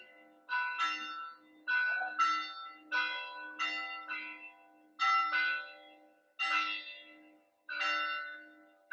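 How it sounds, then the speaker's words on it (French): Church bells ring out in a slow, regular sequence of about eight resonant strikes, each blooming and then fading into the next, heard clear and moderately distant against a quiet background. "Vous avez les cloches qui nous accompagnent."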